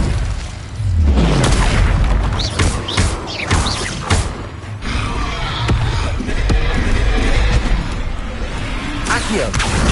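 Booming fire and blast spells from the Hogwarts Legacy wizarding game crash repeatedly and loudly through a continuous dense mix of game effects, with a voice calling out over the impacts.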